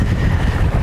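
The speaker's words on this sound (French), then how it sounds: "Il fait super bon, il y a un petit vent" Light outdoor breeze gusting across the microphone, a close, loud low rumble of buffeting wind with no voices.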